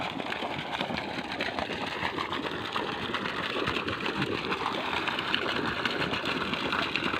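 A solar-powered water pump driven by about four panels pushes water strongly out of a one-and-a-half-inch pipe, giving a steady, close mechanical whirr blended with continuous rushing water.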